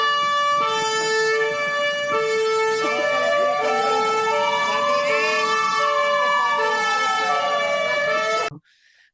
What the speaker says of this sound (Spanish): ¡Que suena la sirena!